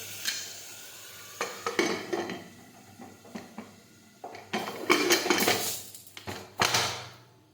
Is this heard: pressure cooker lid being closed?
yes